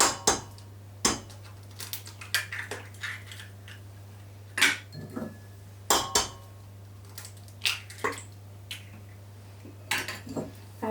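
Eggs beaten into lemon, raspberry and poppy seed muffin batter in a mixing bowl, heard as irregular sharp clinks and taps of a utensil against the bowl, bursts of scraping between them over a steady low hum, with no talking.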